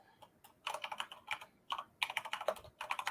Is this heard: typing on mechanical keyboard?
yes